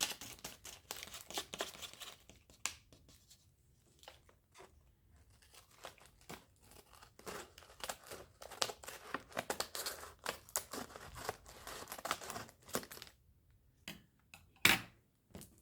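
Scissors snip and crinkle open a plastic candy packet, quiet close-up clicks and rustling crackles scattered unevenly, with several brief cuts and a sharper snap near the end.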